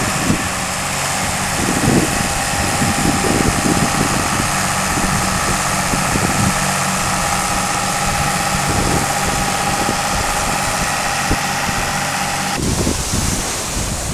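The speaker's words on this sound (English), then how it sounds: "this machine that picks up all the seaweed" Engine of a beach-cleaning machine that picks up seaweed at a resort beach, a steady droning hum mixed with wind and surf, continuous and fairly loud.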